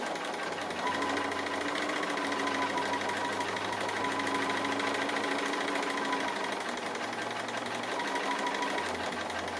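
A sewing machine runs steadily as it stitches down the raw edges of a fabric tree appliqué for a quilt, a close, continuous mechanical hum and whir with no pauses and no talking.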